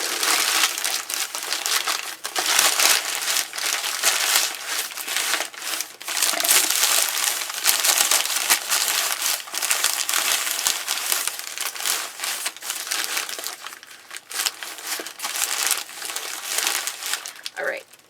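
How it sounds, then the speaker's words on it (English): Packing paper is crumpled and stuffed into a box holding a pottery order, making a steady, close rustle and crunch with short dips, lasting a long stretch. "And then I will stuff the paper on top."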